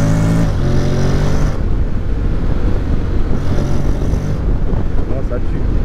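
A 2022 Honda X-ADV motorcycle engine revs and accelerates up close, loud with rising and falling surges, while someone talks over it.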